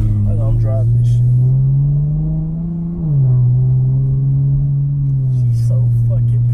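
A car engine hums steadily while driving, a low continuous drone with a brief dip in pitch midway, loud and close throughout with no talk over it.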